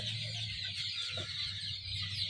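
Young Fayoumi, Sonali and desi chicken chicks about forty days old cluck softly in their pen, faint and a little distant over a steady background hiss.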